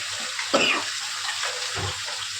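Taro stolons tipped into a pot of simmering hilsa fish curry, a soft wet splash and hiss followed by steady bubbling and sizzling close by, with a second brief stir-like splash near the end.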